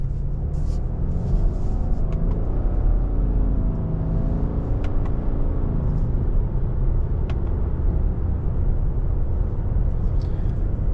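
A 2023 Subaru Legacy Sport on the move, heard from inside as a steady low road and engine rumble with faint higher tire noise. There are no voices.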